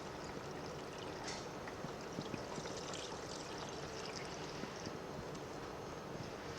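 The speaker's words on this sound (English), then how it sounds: "you can see the colour of this fuel now that's about to pour out" Old fuel pours out of a car's fuel filter housing during servicing, a continuous close trickling and splashing stream that holds steady for several seconds with no voices.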